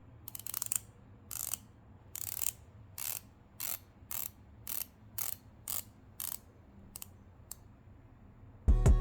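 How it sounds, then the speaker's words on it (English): The rotating bezel of an Omega Seamaster Professional 41mm Diver 300M watch, turned in a dozen or so short, evenly spaced bursts of sharp ratcheting clicks, close and crisp in a quiet room, ending with a louder knock. "It has a loud ratcheting noise that's not pleasant to the ears"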